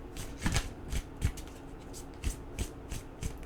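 Oracle card deck being shuffled by hand, with soft repeated riffles and flicks in an uneven rhythm, close and fairly quiet, alone without talk.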